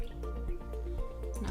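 Grey Goose vodka poured into a glass, a brief close liquid trickle with soft dripping splashes, heard alone.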